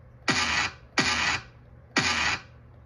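Three sharp snare drum hits land at an even pace about a second apart, each a bright crack with a short, noisy decay and no voices.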